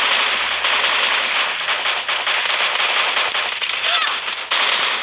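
Gunfire in the Free Fire mobile battle game: loud, dense bursts of rapid crackling shots that keep going almost without pause, with sharp snaps layered over a continuous noisy wash.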